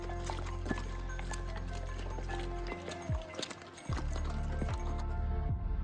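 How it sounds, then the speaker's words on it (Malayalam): Horses approaching from the opposite direction on a trail in Baisaran valley near Pahalgam, Kashmir, their hooves clopping in an uneven rhythm over steady outdoor background noise. "നമ്മുടെ എതിർവശത്ത് നിന്ന് ഒരു കുതിര സംഘം നമ്മളെ കവർ ചെയ്തു കേട്ടോ"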